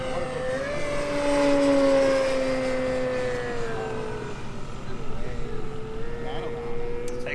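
A Sebart Extra SX 61-inch 6s RC airplane flies past with an electric motor whine that rises to a peak, then falls in pitch and fades. A person talks over part of it.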